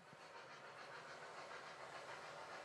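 Steady rolling hiss of model trains running on a layout with several main lines, faint rhythmic clatter underneath, continuous and even throughout, no voices.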